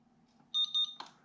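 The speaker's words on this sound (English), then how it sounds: "We press it until it beeps." A DTS1 race timing system's finish line unit gives a short series of four quick electronic beeps as its button is held, followed by a brief louder chirp, over a faint low hum.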